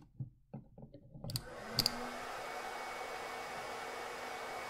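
A hairdryer runs as the electrical load on a loose-wired household receptacle, starting with a few sharp clicks and crackles, then settling into a steady, close, broadband whirring roar with a faint electrical hum.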